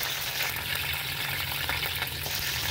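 Green chillies and cumin sizzle in about three spoons of hot frying oil, giving a steady, close crackling hiss with occasional stirring scrapes and a low hum underneath.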